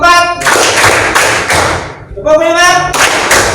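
Claps from a clapping concentration game, several sharp slaps spread across the moment, close and loud, broken up by voices talking between and over them.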